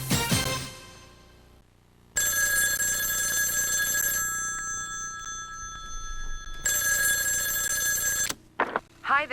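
A telephone bell rings loudly and nearby in two long bursts with a gap between them, and a recorded outgoing message on an answering machine picks up at the end.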